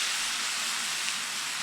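Butter frying on a hot Blackstone griddle beside burger meat for a cheeseburger quesadilla gives a continuous, even sizzling hiss, close and fairly loud, heard alone without speech.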